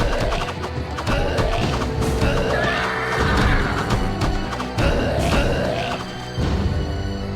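A horse in a video game neighs loudly, with hooves clattering and clip-clopping alongside, close and busy with occasional crashing impacts.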